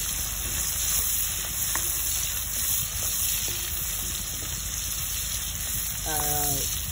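Garlic and onion fry in rendered pork fat for pakbet, a steady, fairly loud sizzle with a few faint utensil taps and a brief voice-like tone near the end.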